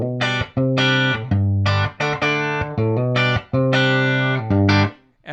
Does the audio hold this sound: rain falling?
no